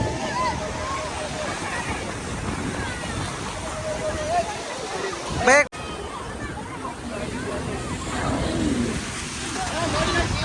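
A speed boat runs across water with a steady, fairly loud slosh and engine rush throughout, broken by a brief loud bump near the middle, while people chatter over it.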